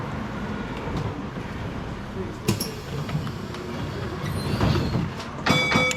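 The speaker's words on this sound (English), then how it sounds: "A tram is pretty noisy and screechy, and it does ding ding." Tram 466 on the Dockline Tramway rumbles steadily along its rails, with a sharp metallic clank midway and a brief high ringing screech or bell near the end.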